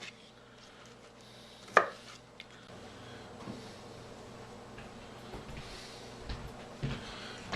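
A knife slices the tip off a garlic head on a cutting board, one sharp crisp cut standing out near the start, followed by quiet faint kitchen handling.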